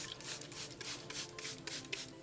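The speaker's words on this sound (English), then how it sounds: "That is me sanding all that dead oxidized plastic off" Sandpaper rubs in quick, steady back-and-forth strokes across the oxidized plastic of a Toyota Soarer headlight, a soft, continuous scratchy hiss heard close up.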